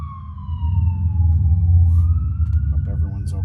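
A wailing siren sweeps downward and then rises again over a heavy low rumble of traffic, with a second siren tone faintly layered above.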